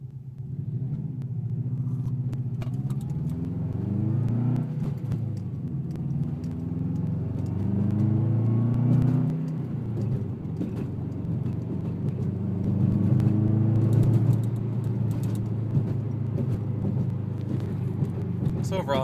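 Car fitted with an Invidia N1 3-inch race exhaust rumbling and revving up steadily, a deep continuous engine drone with rising and falling pitch through the whole stretch, close and loud with a voice over it.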